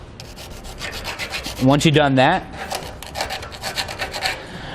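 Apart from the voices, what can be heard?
filing metal shavings off drilled holes with a file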